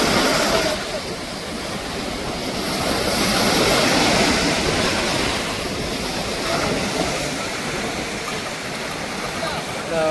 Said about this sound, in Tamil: போட் திரும்பி போகுது. மீன் பிடிக்கிறதுக்காக போட் வந்து திரும்பி போயிடும்.